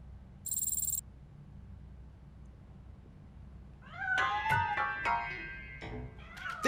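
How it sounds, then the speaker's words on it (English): Cat in the video game RoboCop Rogue City meowing in a string of rising, wavering cries after a quiet stretch with a brief high tone near the start. "That cat must be hiding inside."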